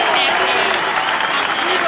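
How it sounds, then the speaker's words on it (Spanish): A studio audience gives an ovation to a guest on a live radio comedy show, steady dense applause throughout with some voices underneath. "No menos injusta será la ovación que tributaremos a Gillespie"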